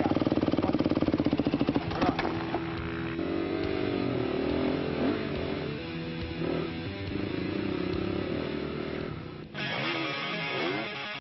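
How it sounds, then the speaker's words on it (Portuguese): Motocross motorcycle engine running loud and close on a dirt track setting, a steady mechanical drone with shifting revs, brief drops and a sharp surge near the end, with no talking. "Tive dificuldade até mesmo para ligar a moto."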